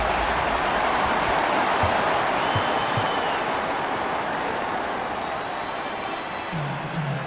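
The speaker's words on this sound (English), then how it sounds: "you can feel this crowd is fired up" Arena crowd in the NBA Live 2006 basketball video game, Denver Nuggets at Philadelphia 76ers, roars in a steady wash of cheering and applause, with faint squeaks and thumps from the court underneath.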